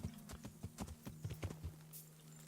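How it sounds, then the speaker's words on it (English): A horse walks at an even pace in the medieval video game Kingdom Come: Deliverance, its hooves giving a steady run of clip-clop footfalls over a low, constant hum, then the steps stop. "Oh, look at that cute horse."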